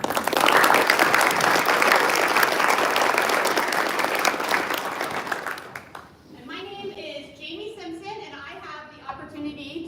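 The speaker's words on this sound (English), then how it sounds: "let's give all of our students a round of applause" Audience applause for student award winners at a 2024 student achievement awards ceremony, a loud, dense ovation that fades out after about six seconds, followed by a speaker talking.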